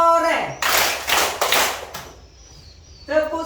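A burst of rapid hand clapping in a rhythmic pattern, bracketed by chanting voices before and after.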